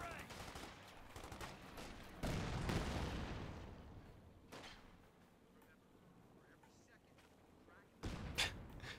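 Several sharp, booming rifle grenade launches and blasts go off in a World War II strategy game with Wehrmacht forces and a Panzer II, coming in spaced bursts over a low, rumbling battlefield ambience.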